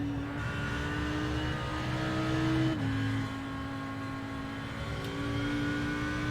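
Race car engine at full throttle during 24-hour Nürburgring practice, a loud sustained onboard drone with one sharp pitch drop mid-run as it shifts, then climbing steadily again.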